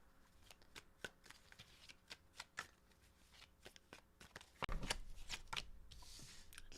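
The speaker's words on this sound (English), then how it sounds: "All right, last shuffle for Scorpio placements." Tarot cards being shuffled during a reading, a quick run of crisp riffling snaps that builds into a denser, louder continuous flutter toward the end, close and clear with no talking.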